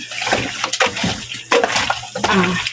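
Raw pork being rinsed and kneaded by hand in water, with close splashing, sloshing and wet squelching in uneven bursts. A faint voice is present.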